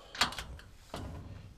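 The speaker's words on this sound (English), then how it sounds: "Oh, open and lock the door." A door is opened and then locked, giving two separate knocking, rattling clunks about a second apart, moderately close and with no talk.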